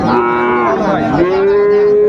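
A Friesian or cross-breed bull calf, about four months old, lets out one long, loud, close moo at a cattle market, its tone sliding upward and holding steady to the end.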